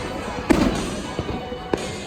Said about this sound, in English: So the Knott's fireworks have started up, and they're kind of in a weird spot, actually.